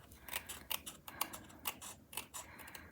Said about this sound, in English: I'm gonna take my snips and I'm just gonna trim off that little area of white